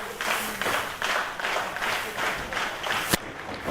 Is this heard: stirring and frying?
no